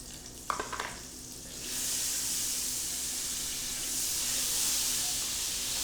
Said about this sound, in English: We're going to melt 3 tablespoons of butter.